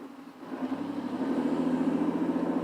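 A car fitted with an exhaust tip idles steadily up close, a low throaty exhaust rumble with a slight rhythmic pulse and no talking.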